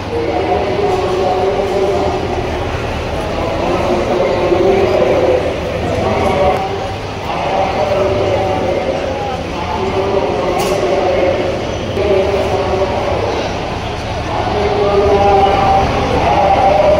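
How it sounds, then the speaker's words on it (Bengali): A Vande Bharat Express train pulls into Howrah station with a low, rolling rumble and rhythmic wheel clatter that swells and fades, heard amid busy platform noise and people talking. "দেখো দূরে আমাদের বন্দে ভারত ঢুকছে।"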